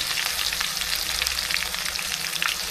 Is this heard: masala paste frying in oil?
yes